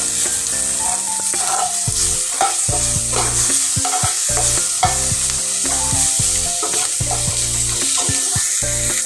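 Onions and ginger fry in a pan while being stirred, producing rhythmic loud scraping and knocking strokes over a constant bright sizzle.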